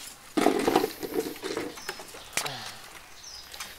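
A male chuyền songbird calls outdoors in Đắk Nông, with a few soft low cooing notes and brief high chirps close by, alone without talk.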